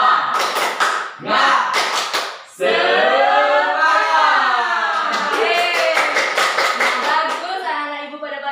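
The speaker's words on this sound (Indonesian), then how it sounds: "Tepuk semangat." Schoolchildren in a classroom perform the 'tepuk semangat' clap routine, sharp rhythmic bursts of hand claps in patterned groups alternating with loud chanted voices.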